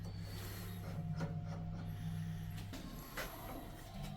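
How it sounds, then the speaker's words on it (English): A slot drill cleaning up machined threads, lightly chamfering the edge rather than cutting through, makes a steady close whir with a faint rasping scrape as it cuts, continuous throughout. "We use a slot drill to clean up the threads, and all it does is just take that little bit of edge off."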